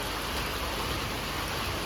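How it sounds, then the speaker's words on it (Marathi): Steady rain falls during a Konkan downpour, a dense, even hiss with no break over the short stretch, fairly close and continuous, with no voices present. "आता पण थोडं पडतंय"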